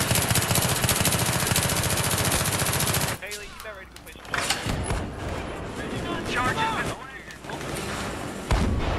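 Heavy gunfire and booming cannon-like blasts in the Battlefield 3 video game, loud and dense at first, then broken into scattered shots and explosions, with voices audible in the mix.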